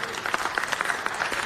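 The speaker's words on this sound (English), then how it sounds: "Clap for that." Applause at a city council meeting for Pali High's first cross-country title in 34 years, a steady wash of many hands clapping from a crowd in the room, moderately loud and continuous.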